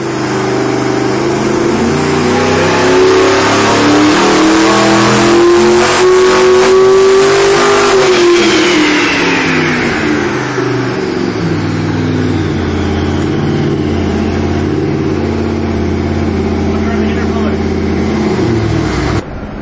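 A turbocharged 632 cubic inch big-block Chevy with mirror-image turbochargers, billet intake and stainless headers runs loud on a dyno, its tone rising as it pulls hard, then winding down into a steady roar under a voice.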